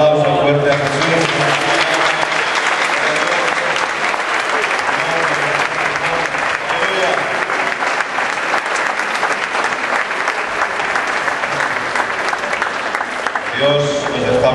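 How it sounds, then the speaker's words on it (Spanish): A church congregation at a Sunday service applauding loudly, a dense, sustained wall of clapping lasting over ten seconds with voices mixed in. "Da un aplauso fuerte a Jesús."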